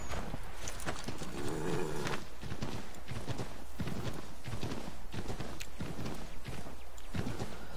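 Horse hooves clip-clop steadily in Assassin's Creed 3, a continuous walking rhythm heard alone over a constant game ambience with no talking.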